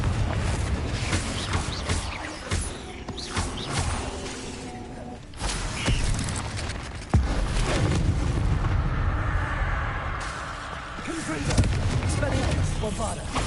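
A Bombarda explosion spell goes off in Hogwarts Legacy amid game combat, with heavy booming blasts and rumbling impacts, loud and dense, broken by a few sharp cracks.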